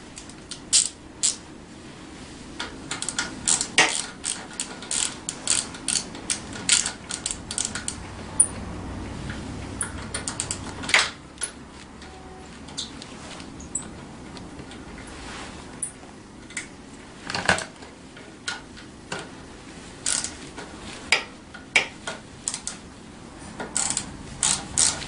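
A socket ratchet clicks in short bursts while an 8mm socket loosens a bolt on a Tao Tao 90 dirt bike, close and fairly quiet, with scattered metallic taps and pauses between runs of clicks.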